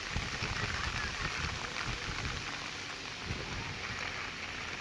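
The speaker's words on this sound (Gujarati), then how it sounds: "ભારે વરસાદ વરસ્યો" Heavy monsoon rain falling on villages near Bagasara in Amreli district, Gujarat, a dense, steady downpour hissing loudly and continuously with no break.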